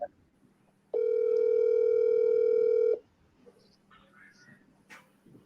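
A single long electronic ring tone sounds for about two seconds, steady and clear, followed by faint background noise and distant barking.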